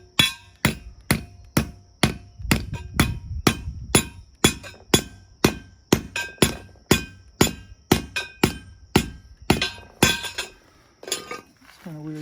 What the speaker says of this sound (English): It's kind of weird hammering that way.